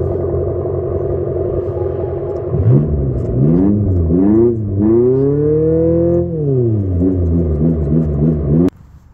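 A synthetic engine note plays from the external speaker of an Abarth 500e electric car, rumbling at idle then rising and falling in revs like an exhaust, ending abruptly with a click.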